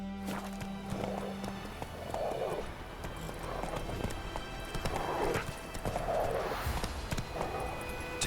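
Roach, Geralt's horse in The Witcher 3, clip-clops along in a steady rhythmic stride, hooves sounding clearly against a backdrop of game music and ambience.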